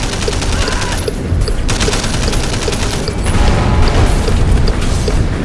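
Gunfire and explosions from the video game Sleeping Dogs on Xbox One, with dense, steady rapid shots and booming blasts continuing loudly throughout, with no break.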